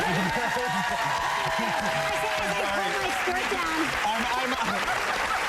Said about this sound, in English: Guys, please applaud for that.